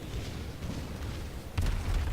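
Incoming gun salvo striking the cruiser Roon in a naval video game: a sustained booming rumble, then a heavier, louder impact burst near the end.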